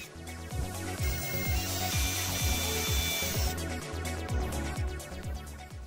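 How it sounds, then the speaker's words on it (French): A power drill boring four holes in a headlight reflector of a BMW E46, a close whirring motor with repeated rising and falling pulses and a scraping grind over several seconds, no voices. "Ensuite on a positionné le projecteur pour tracer et percer 4 trous sur le réflecteur."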